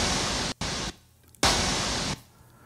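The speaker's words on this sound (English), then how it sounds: "White noise mixed in minus 32. And then same thing, and like acting as a downlifter." Loud white noise bursts serve as a downlifter effect in a melodic techno track, two hissing blocks that cut off abruptly, each trailing into a long reverb tail, with no voices.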